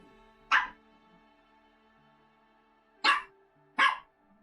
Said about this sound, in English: Did you woof?